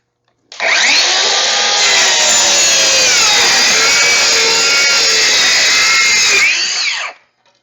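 A DeWalt 20-volt cordless circular saw cuts through plywood, a loud continuous whining buzz running about six seconds, straining slightly mid-cut before stopping abruptly.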